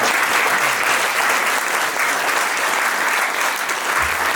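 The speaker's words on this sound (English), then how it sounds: "So massive round of applause for Simon." Audience at a guitar fan meetup applauds for Simon: steady, dense clapping throughout, loud and close.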